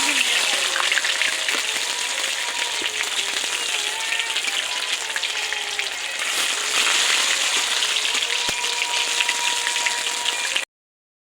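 Chicken pieces fry in hot oil for chicken satay at an outdoor picnic, giving a loud, steady crackling sizzle that runs unbroken for about ten seconds before cutting off abruptly.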